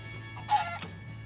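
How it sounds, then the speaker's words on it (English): A single short cluck from a chicken in a video game, heard once up close over a quiet background. "A chicken!"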